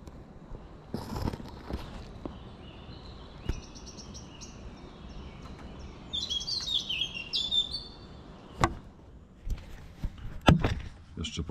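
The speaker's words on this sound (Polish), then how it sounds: "Cisza, spokój, tylko ptaków śpiew." Birdsong in a spring forest at early morning after light rain, with scattered chirps and tweets, a brighter burst of calls midway, faint at a distance over quiet ambience with occasional footsteps or knocks.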